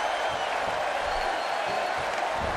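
A big, loud crowd at a Houston professional wrestling event cheers and applauds steadily throughout, a dense, sustained roar with no breaks.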